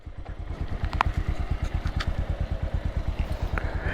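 A motorcycle runs along a dusty, rough highway in Sikkim, its engine thumping in a steady rapid pulse with rattling and road noise throughout, close and continuous with no talk.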